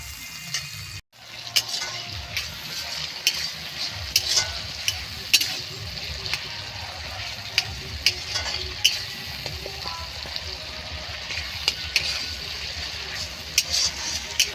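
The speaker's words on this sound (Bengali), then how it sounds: "টমেটো দিয়ে খুব ভালো করে নেড়ে চেড়ে নেব।" Chopped tomatoes sizzle and fry in a pan while being stirred, a steady close crackle with repeated scraping of the spoon against the pan throughout, for a spicy Bengali koi fish curry.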